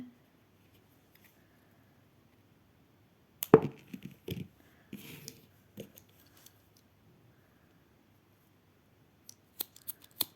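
Yarn thread is snipped with scissors to finish a crochet flower. A few sharp, close clicks and cuts come in a short cluster amid near silence, followed by scattered faint handling ticks.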